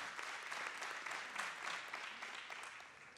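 Church congregation clapping during a sermon, a steady, faint wash of applause from a large room with no voices over it.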